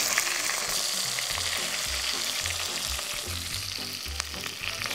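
Chicken pieces fry in a pan with a steady, dense sizzle and scattered soft pops, continuous and close, with no voices.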